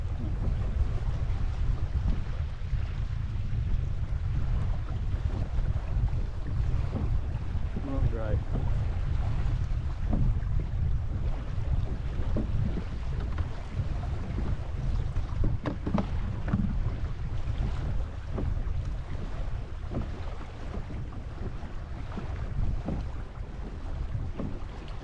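Small boat running back across a lagoon rides over and punches into waves, a constant heavy roar of hull slap, spray and wind buffeting the microphone, loud throughout.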